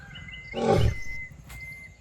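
A lion in the Girnar forest gives a single short, low grunting roar of moderate loudness at some distance, against a quiet outdoor background with faint insect or bird tones.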